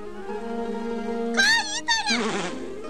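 Bees buzzing near a hive, a brief wavering drone that rises sharply mid-clip and fades, over a steady low musical background.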